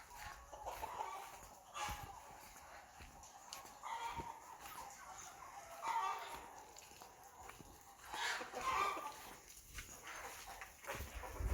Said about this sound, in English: So some hens have come for shelter and some are still